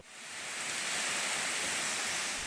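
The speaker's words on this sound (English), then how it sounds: "the main attraction, the 73-foot high waterfalls that give the park its name" The 73-foot waterfall at Falling Waters State Park in Florida, a steady broadband rush of falling water, even and continuous, heard fairly faintly from some distance with no voices.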